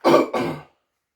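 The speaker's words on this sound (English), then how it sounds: "Sorry, I got a cough." Two quick, close coughs in succession, loud and dry, followed by silence.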